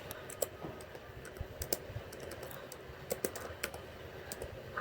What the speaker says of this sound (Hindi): यहाँ पर हम टाइप करेंगे